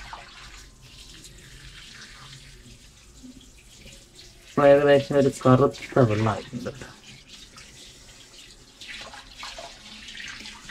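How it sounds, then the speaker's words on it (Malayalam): Water runs steadily from an opened pipe while a tank is being flushed clean, a low continuous wash that sits under a short stretch of talk in the middle and thins out afterward. "പൈപ്പ് തുറന്നിട്ടുണ്ടല്ലോ."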